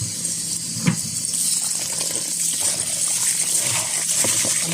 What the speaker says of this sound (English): And now we are going to wash our rice.